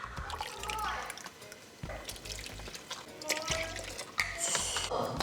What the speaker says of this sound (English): Now I'm gonna add 2 cups of coconut milk.